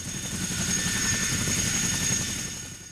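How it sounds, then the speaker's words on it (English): A Boeing CH-47 Chinook tandem-rotor heavy-lift transport helicopter drones steadily and loudly throughout, a dense low rotor rumble with a whining turbine tone above, fading slightly at the end. "The Boeing CH-47 Chinook is a heavy-lift transport helicopter capable of carrying troops"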